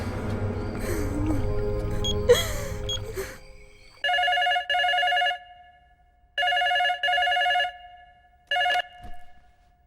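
After a stretch of indistinct voices and room noise, an electronic telephone rings in loud repeated bursts: two long double rings and a short final one.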